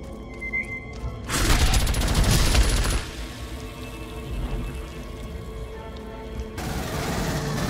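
Gunfire in the Aliens: Colonial Marines video game, a dense loud burst of rapid automatic shots for about two seconds, then quieter scattered shots and explosions continuing in the background.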